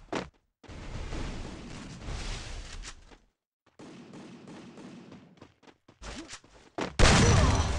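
Gunfire in Garena Free Fire, irregular bursts of shots and sharp single reports separated by silent gaps, ending in a louder, fuller blast of noise.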